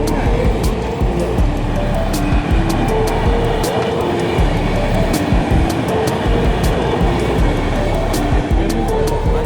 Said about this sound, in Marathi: आणि ट्रेन आलेली आहे मित्रांनो,